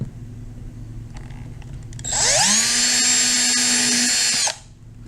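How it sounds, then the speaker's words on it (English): A handheld power drill fitted with a 3/32 inch bit bores into MDF wood, its motor rising to a loud, steady high whine for a couple of seconds before spinning down. "So I have my drill with the 3/32 drill bit."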